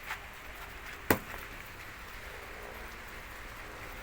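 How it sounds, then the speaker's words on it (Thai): A steady, faint patter of rain falls outdoors, with one sharp knock partway through. "วันนี้ฝนกำลังตกเลย"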